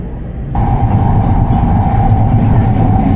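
Steady low rumble of a train interior as it starts off and runs, a constant droning hum with a faint tonal whine, no talking.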